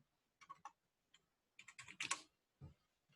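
Someone types on a computer keyboard in short bursts of quiet key clicks separated by pauses, close and alone.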